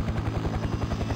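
Helicopter engines running steadily in Farming Simulator 15, a continuous loud rotor thrum with a fast regular pulse and a high whine, with no talk over it.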